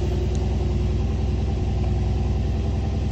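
A Mercedes-AMG GLC 63 idling, a steady, even low engine rumble that holds unchanged throughout, close and fairly loud, with no voices.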